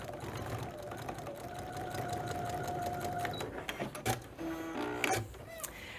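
A sewing machine stitches a cat and ornament quilt block with a close, steady mechanical whir, then slows into short stop-start bursts near the end, with no talking.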